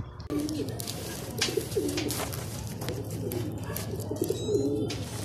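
Racing pigeon cooing in a loft at the end of a race, soft repeated coos over steady background noise and faint chatter.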